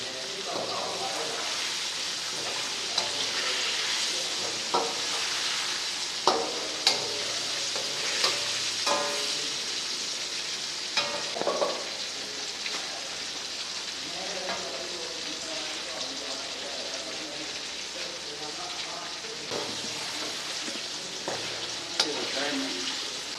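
Chicken charsi karahi fries in a pan with a constant close sizzle, while a spoon scrapes and clinks in irregular strokes and a voice talks intermittently over it.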